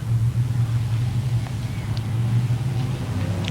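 Sprintcars racing at Parramatta City Raceway, a steady, loud engine roar holding a low droning pitch throughout, with no pauses and no talk.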